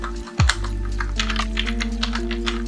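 Code typed on a computer keyboard during a Python Tkinter tutorial, a steady stream of close, light key clicks with one heavier thunk near the start and a constant electrical hum underneath.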